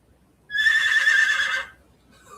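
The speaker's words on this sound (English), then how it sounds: "We got horse noises." A horse neighs from a phone speaker: one loud, shrill whinny lasting about a second, clear and close, followed by near silence.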